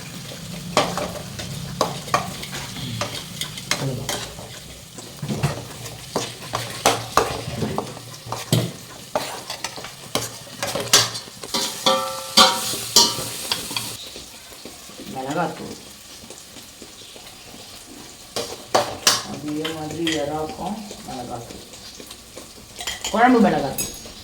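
Food and oil fry in a pan with loud sizzling, punctuated by frequent stirring clatter and scraping of a metal utensil against the pan, busy and close throughout with no speech.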